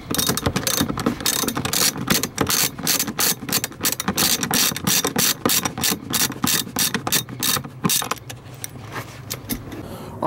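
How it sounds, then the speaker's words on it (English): A hand ratchet loosens the front seat bolts inside an Acura Integra, fast, continuous clicking from the pawl up close, slowing and thinning out near the end. "we're just gonna take these 2 front bolts off"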